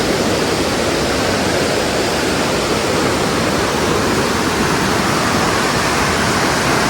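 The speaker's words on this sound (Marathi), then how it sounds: "ब्रिज खालून वाहणारा हा असा ओढा" A stream, like a small river, flowing under a bridge near a riverside village: a loud, continuous rushing of water that fills the whole scene, close by and unbroken, with no voices.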